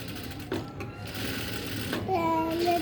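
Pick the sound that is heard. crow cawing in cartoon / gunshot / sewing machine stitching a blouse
sewing machine stitching a blouse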